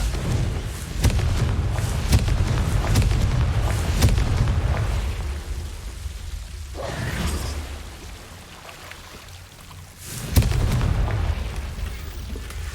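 Confringo spell blasts in Hogwarts Legacy: several sharp booming bursts land one after another, loud and close, with quieter rumbling stretches between them and a final strong bang near the end.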